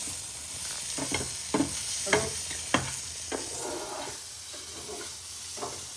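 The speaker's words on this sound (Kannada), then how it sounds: "ಇಲ್ಲಿ ಪನ್ನೀರ್ನ ಸ್ವಲ್ಪ ಫ್ರೈ ಮಾಡ್ಕೋತಾ ಇದ್ದೀವಿ" Paneer pieces seasoned with salt and chilli frying in a pan, a steady sizzle with several sharp scraping stir strokes and clinks of the spatula early on, close with no talk.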